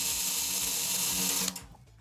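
A power drill fitted with an Evans drill bit spins steadily, whirring close and moderately loud while loosening drum head tension rods, then stops abruptly and winds down into quiet.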